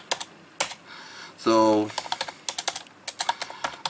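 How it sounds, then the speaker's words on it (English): Commands typed on a computer keyboard at a Windows command prompt, with bursts of sharp, close key clicks coming in quick irregular runs. A brief spoken word and a short tonal sound break in midway. "Oh man, my keyboard's gone mad."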